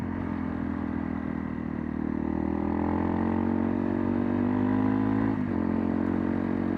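A Honda CRF trail bike thrums along at steady throttle on a rough ridge track, engine note droning close with faint clatter as it rides over bumps.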